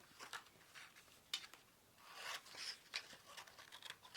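Paper being cut for a handmade faith journal, with quiet scissor snips and light rubbing and scraping in a series of short, faint strokes, one after another, close by.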